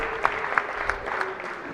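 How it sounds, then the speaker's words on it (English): Applause in the Senate chamber as a student page is welcomed, a brief patter of scattered clapping with a few sharper claps standing out, fairly quiet and short. "If you could give them a round of applause"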